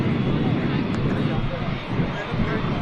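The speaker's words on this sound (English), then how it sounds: "Wow, what's this aircraft doing here?" A steady broadband roar of an aircraft at Manchester Airport fills the entire moment, continuous and fairly loud with wind-like rush.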